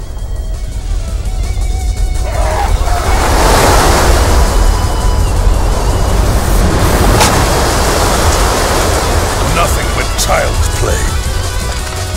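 Broad, steady rush of water waves and surf in the Dynasty Warriors 6 video game, loud and continuous throughout with a windy, noisy texture and faint higher splashes.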